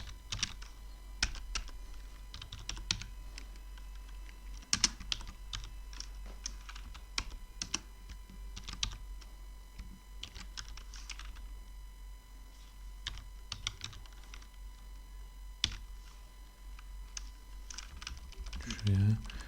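Python code being typed on a computer keyboard, a steady run of close, crisp keystrokes with short pauses and bursts, no talking over it.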